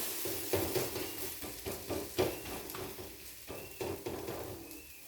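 An oats omelette fries in a pan with a steady soft sizzle, broken by several scraping knocks of a spatula as it is turned, close and moderately loud with no talking.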